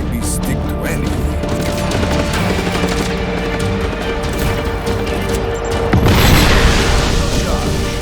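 Gunshots and explosions in the open-world action game Just Cause 3, a dense, loud clatter of gunfire and booms with a heavier blast near the end, while someone talks over it.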